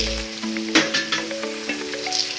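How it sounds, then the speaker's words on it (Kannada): Peanuts and dry coconut fry for a Karnataka-style poha mixture, giving a close, steady sizzle broken by several short stirring clatters against the pan. "ಎಲ್ಲ ಚೆನ್ನಾಗಿ ಫ್ರೈ ಮಾಡೋಣ"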